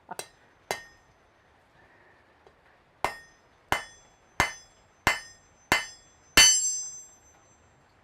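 Hammer blows ring out on an anvil in a smithy: two quick strikes, a pause, then six evenly spaced metallic clangs building to a final louder hit, each ringing bright and decaying.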